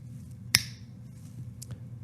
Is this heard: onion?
no